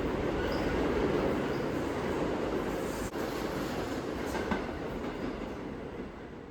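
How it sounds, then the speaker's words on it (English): Steady loud rumble of a New York City subway train riding downtown through Manhattan, continuous wheel and rail noise with faint clatter throughout, no voices. "We stayed in the train for 2 stops."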